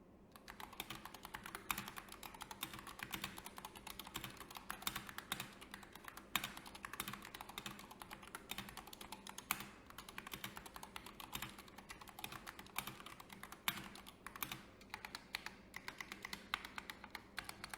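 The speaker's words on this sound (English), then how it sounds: "while the keys are mostly quiet to use, they can get loud if you bottom them out often" Rapid, steady typing on a Wooting Two HE analog mechanical keyboard, keys clacking continuously with occasional louder bottom-out strikes, close up and with no talking.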